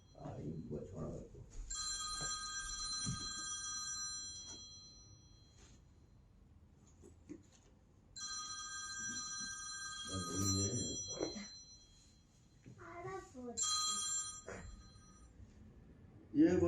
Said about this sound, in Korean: 아, 이거 뭐야, 전화가 또.